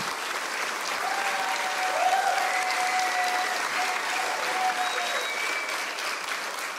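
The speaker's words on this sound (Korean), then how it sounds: "여러분 다시 한번 큰 박수 부탁드립니다." Steady, dense audience applause at an award ceremony in a hall, honouring a Japanese high school baseball team, with a faint tone briefly audible over the continuous clapping.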